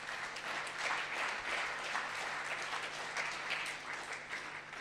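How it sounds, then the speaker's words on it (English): Student leadership awards audience giving a round of applause, a fairly quiet, even wash of many hands clapping that holds steady for several seconds with no talking. "You should give yourselves a round of applause."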